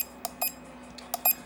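Several short, sharp electronic beeps from a Taiwan replica airsoft gun sound in irregular pairs over a faint steady hum, close and clear.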